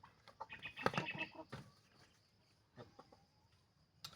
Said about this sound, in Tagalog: Pero akong manok guys oh.